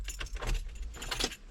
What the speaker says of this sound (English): Put the keys in the ignition and turn it on.